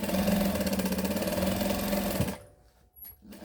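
A sewing machine runs steadily while backstitching a waistband, a loud close mechanical whir with rapid regular stitching that stops abruptly partway, leaving near silence with faint small clicks.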